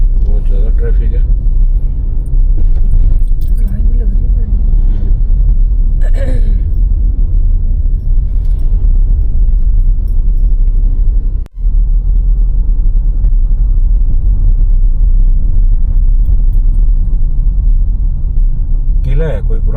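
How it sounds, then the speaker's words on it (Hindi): Heavy road traffic near the Mukundra Hills Tiger Reserve gives a constant loud rumble of engines and passing vehicles, with brief horn-like bursts and a short dip midway. "बहुत ज़्यादा ट्रैफिक है।"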